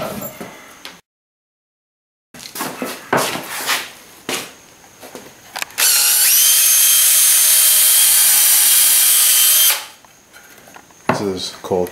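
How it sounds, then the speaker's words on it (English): A power drill drives deck screws at an angle into wood, toe-screwing. Scattered knocks and handling noises lead to one loud, steady whine of about four seconds, followed by more clatter. "This is called toe screwing."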